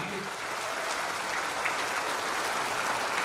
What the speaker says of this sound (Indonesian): Marilah berikan tepuk tangan kepada Menteri ATR BPN yang baru